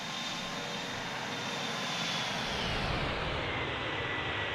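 Simulated McDonnell Douglas MD-11 jet engines roaring during a flyby in a flight simulator, a broad steady whoosh with a faint high whine that drifts lower in pitch, sustained throughout with no voices.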